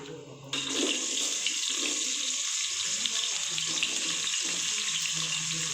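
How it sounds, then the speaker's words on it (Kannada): Sliced onions frying in hot oil for mutton dum biryani, a loud, dense, continuous sizzle that surges in suddenly and holds steady, close up, with some quiet talk beneath it. "ಎಣ್ಣೆಗೆ ಈರುಳ್ಳಿನ ಫ್ರೈ ಮಾಡ್ತಾಯಿದ್ದೀನಿ"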